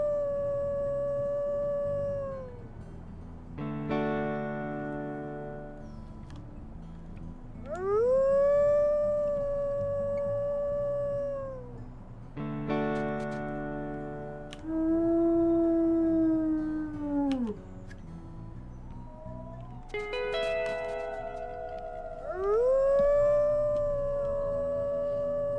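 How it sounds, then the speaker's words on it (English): Wolves in the WolfQuest video game give several long, drawn-out howls that rise and fall, loud and close, one after another with some overlapping, over a low steady background. "And they howl in absolute frustration."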